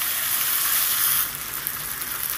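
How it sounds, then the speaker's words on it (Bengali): Onion, tomato, ginger and garlic fry in hot oil in a pan, a loud continuous sizzle that softens partway through as the mix is stirred, with no voices. "এবার পেঁয়াজ আর টমেটোটার সাথে সুন্দর করে নেড়েচেড়ে ভেজে নেব।"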